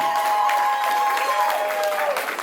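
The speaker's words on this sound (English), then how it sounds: "Let's give our women a round of applause" An audience at the AfriCANDO 2017 awards applauds the women honoured in a speech, with crowd clapping and cheering under a steady held tone, brief and fairly loud.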